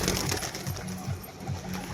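A female pigeon coos in low, rhythmic pulses during a display, repeating every half second or so against a busy background.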